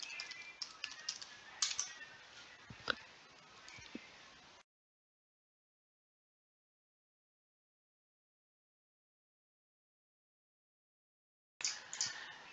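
Keys clatter on a computer keyboard as a password goes in, a burst of soft close clicks with a few louder taps, then a long silence before a brief final flurry.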